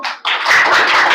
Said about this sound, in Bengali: হয়ে যাক বাচ্চারা, জোরে হাততালি